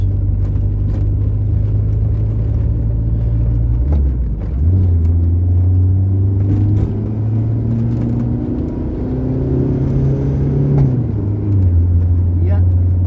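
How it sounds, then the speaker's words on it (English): An old, battered bus with a 70 brake horsepower engine drives along a road, its low engine drone rising and falling through gear changes under steady cabin rumble. Someone talks over it throughout. "my battered old bus has only got 70 brake horsepower"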